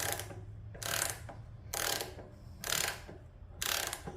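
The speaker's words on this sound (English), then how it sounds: "I'm going to go ahead and torque this axle." Torque wrench ratcheting on the rear axle of a Harley-Davidson Dyna, five evenly spaced bursts of clicking about one second apart, close and fairly quiet with no talk.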